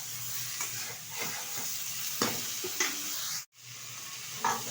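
Cauliflower and potato frying in oil with turmeric and salt while being stirred in a pan, a soft continuous sizzle broken by occasional spoon scrapes and taps, close but fairly quiet, with a brief silent cut partway through.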